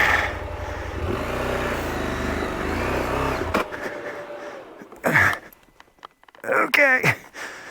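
A heavy dirt motorcycle rides a rocky off-road trail near Moab, Utah, its engine droning and rising in pitch for several seconds before fading, followed by scattered knocks and bumps from the rough ground.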